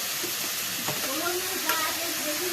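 Vegetables fry for chow mein in a hot pan, giving a dense, steady sizzle and hiss throughout while a voice talks over it.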